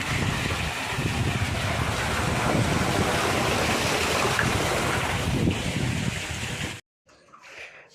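Loud, steady rushing water pours from a pump into a farm water tank for several seconds, then cuts off abruptly, leaving a fainter, uneven trickle.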